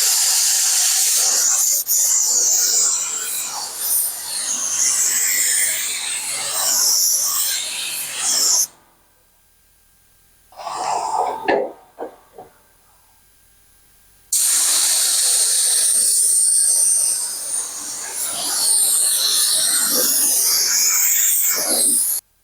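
A spray gun laying blue paint onto a truck, with long bursts of loud, airy hissing spray, a short sputter in the middle gap, and silence between passes.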